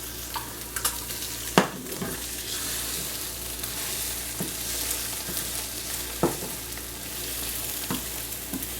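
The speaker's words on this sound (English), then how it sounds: "I'm just frying these eggs up" Eggs fry in a pan with a constant crackling sizzle, while scattered sharp pops and spatter clicks break through at irregular moments.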